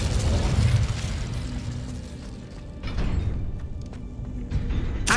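Incendio fire spell cast in Hogwarts Legacy, a loud whooshing burst of flame with booming impacts, followed by crackling bursts and mechanical creaks in a busy game soundscape.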